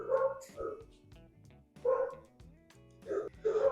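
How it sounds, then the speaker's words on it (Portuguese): Dogs bark in short bursts at several points, close and fairly loud, as if indoors near someone recording; harmonic yelps come in roughly three clusters with quieter gaps between them. "Eu vou ter que gravar com o cachorro latindo"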